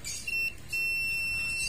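A multimeter's continuity buzzer sounds a steady high-pitched tone while probes touch a capacitor line, briefly dropping out and then resuming, close and loud.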